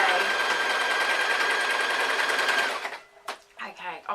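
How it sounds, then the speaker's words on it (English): A sewing machine stitching stretched elastic onto a strapped top, a loud fast continuous whir for nearly three seconds, then stopping, followed by brief handling noises and a few short bursts. "I'm going to stretch my elastic to the end of my shoulder and stitch away"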